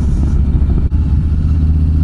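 A Harley-Davidson Street Bob motorcycle engine rumbles loudly and continuously while riding, a deep throbbing drone with wind roar and a brief dip partway through.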